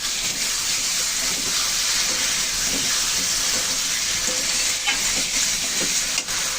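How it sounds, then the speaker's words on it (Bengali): A curry with spices sautéing in a pan sizzles and crackles steadily, with repeated stirring scrapes and occasional clinks, loud and close with no talking. "সুন্দর করে মশলা কষিয়ে নেব তরকারির সাথে।"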